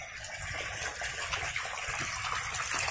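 Water gushing steadily from a 0.5 HP bored well pump, a continuous rushing, splashing flow heard close and alone at a fairly low level without pause.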